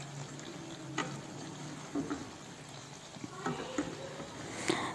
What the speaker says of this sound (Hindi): जी तो एक दफ़ा इसमें हम आराम से चम्मच चला लेंगे